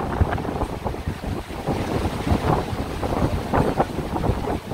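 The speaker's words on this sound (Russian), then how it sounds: "Ветрище!" Strong wind roars through the Argun gorge in Chechnya, a loud, continuous gusty buffeting that batters the microphone in uneven surges throughout.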